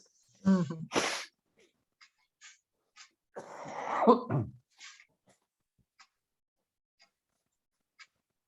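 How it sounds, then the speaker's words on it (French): A man sneezes twice close by in quick succession, sharp bursts followed by a shorter throaty vocal sound, set in a quiet room with faint soft ticks. "Chaque fois que je prends une douche ou quoi, j'éternue."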